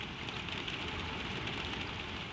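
Gentle rain falls steadily, a dense, even hiss of drops pattering close by with no pauses or other sounds.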